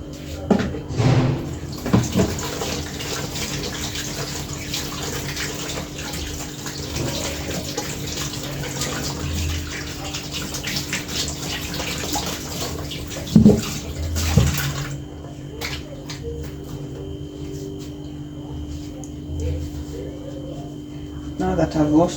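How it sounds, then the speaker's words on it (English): Hands being washed under a running kitchen tap, a steady close splash of water with brief clatters and a voice speaking over parts of it, the flow cutting off near the end. "Let me wash my hands."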